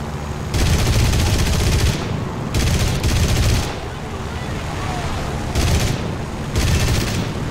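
Machine-gun fire from a fighter plane in the War Thunder combat game, loud rattling bursts of roughly one to one and a half seconds repeating at intervals over a steady engine drone.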